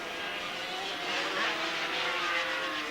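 Racing superbike engines, including an old Yamaha, scream around Donington Park in a 1984 race, a distant, steady high-pitched whine that swells slightly as bikes pass, with a commentator's voice faintly underneath.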